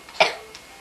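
A single short cough up close, followed by quiet.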